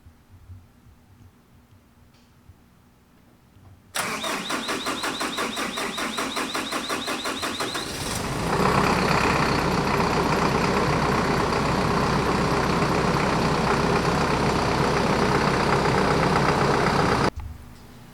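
A Hino 195 truck engine cranks with rapid rhythmic starter chugging, then fires and settles into a loud steady idle before cutting off near the end.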